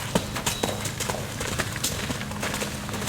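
A horse under a semi saddle trots steadily, its hoofbeats clip-clopping in a brisk, even rhythm close by, with faint rustle and tack noise around them.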